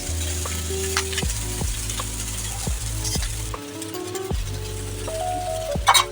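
Cooked rice tossed into a hot pan for chicken fried rice sizzles loudly and steadily, with repeated scraping and clanking of a utensil against the pan and a brief quieter gap near the middle.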